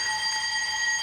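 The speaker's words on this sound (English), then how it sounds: "fire alarm, sir." A fire alarm sounds at Brockwood Park, a continuous, steady, high electronic ringing that fills the room evenly, loud and unbroken, with no speech over it.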